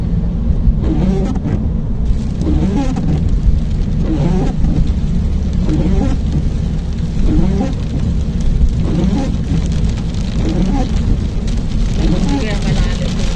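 Heavy rain pours over a car driving in Doha, Qatar, a dense, steady hiss of water blended with a constant low road and engine rumble throughout.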